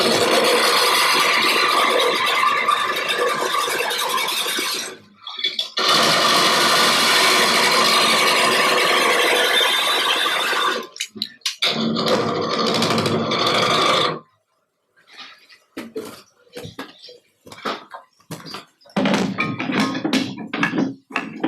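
A spindle gouge cuts a green wood bowl spinning on a lathe, giving loud, sustained broadband shearing in long continuous runs broken by brief pauses, then shorter choppy cuts toward the end, close up.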